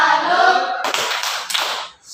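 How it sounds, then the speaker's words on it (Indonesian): An audience performs a rhythmic clapping salute in a classroom-style setting, a few loud group claps in a steady beat following a brief vocal chant, close and crisp. "Tepuk salut dulu untuk mereka dua."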